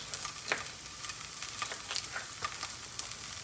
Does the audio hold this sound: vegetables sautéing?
yes